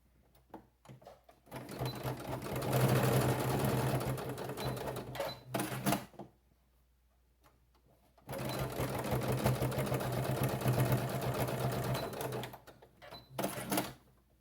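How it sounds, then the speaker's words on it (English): A sewing machine stitches along the long fabric edges of a zippered pouch, running in two sustained bursts of fast rhythmic whirring with short pauses and a few brief starts between, close and clear, with no talking. "Now you're just going to stitch an eighth of an inch away from both long edges."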